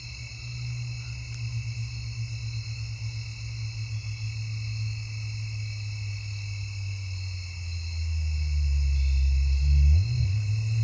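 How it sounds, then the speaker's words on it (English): A Davis's tree cricket trills in a suburban neighbourhood, a thin high continuous buzz heard faintly at a distance, while the low rumble of passing car traffic swells louder near the end. "that was a Davis's tree cricket"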